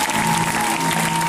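A church congregation claps and cheers loudly and steadily through a short burst, dense applause with a sustained tonal hum running beneath it.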